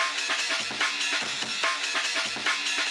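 Overdriven drums run through a high pass filter, leaving a thin, bass-less loop of clicky hits and hissy cymbals repeating steadily and alone.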